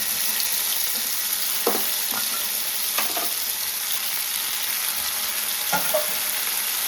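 Chopped onions and tomato pieces fry in a pan with a steady, even sizzle throughout, punctuated by a few brief scraping stirs.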